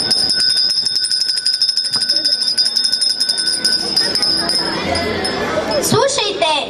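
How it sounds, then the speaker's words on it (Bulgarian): A small bell rings rapidly and continuously, bright and clear, at a school year opening ceremony, before voices and a crowd's noise rise near the end. "Слушайте, чудни звънчета звънят."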